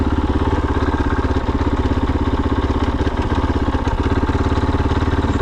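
A KOVE 450 Rally motorcycle with a Rekluse clutch runs at low speed, its single-cylinder engine throbbing in a fast, even, loud pulse with mechanical clatter throughout.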